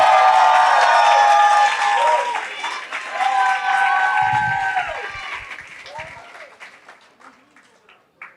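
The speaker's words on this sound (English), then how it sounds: "Can we all please give a huge round of applause for the bride tonight?" Wedding guests at an Asian-American reception in Jersey City, New Jersey applaud and cheer for the bride, a loud burst of clapping and crowd noise with voices mixed in that gradually fades over several seconds.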